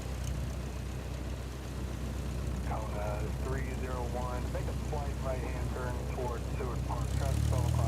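Airplane descending toward Boeing Field on a cold day, a steady broadband engine rumble and airflow roar running throughout, growing louder near the end, with a person talking over it partway through.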